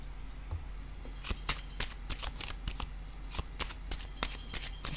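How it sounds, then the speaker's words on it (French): Playing cards riffle and slap down close by in a series of sharp, rapid flicks and taps, repeating steadily over a quiet room background with no talk. "Je vais déposer une autre carte."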